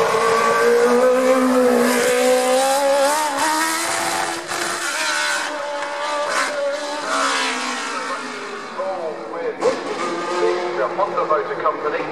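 A high-pitched classic Formula 1 car engine revs and accelerates at the Shelsley Walsh hill climb, its whine climbing and dropping through gear changes, with a voice talking over it.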